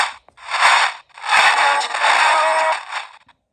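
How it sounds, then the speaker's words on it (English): Choppy spirit box scanning noise through an ANC-Mini noise reducer in loud bursts with brief gaps between them, a filtered crackling hiss that stops and restarts as the channels sweep. "you can just hear it's still scanning, but it's a lot clearer now"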